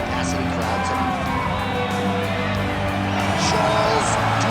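Arena crowd in the UFC 5 video game ahead of a Charles Oliveira versus Islam Makhachev bout roars and cheers continuously, loud and dense, with an announcer's voice running over it.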